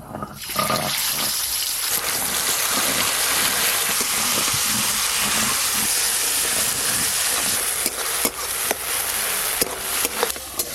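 Whole spices and a paste of cashew, poppy seed and chillies are stirred in hot oil over a clay stove, giving a loud, continuous sizzling hiss with scattered scraping clicks toward the end.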